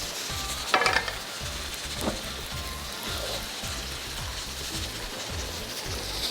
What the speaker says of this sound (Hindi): इसको हम करते हैं फ्राई, और फ्राई करके हम इसको निकालते हैं